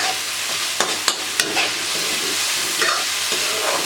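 Chicken liver and gizzard pieces drop into a hot pan for a kaleji pota curry, giving a steady close sizzle with a few sharp clatters and stirring scrapes near the start.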